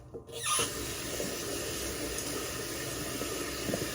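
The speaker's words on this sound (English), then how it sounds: "I'm just splashing water on my face" Water splashed onto a face by hand during a skincare rinse at a sink, a burst of splashing and running water after a brief quiet start, then a steady close wash of water.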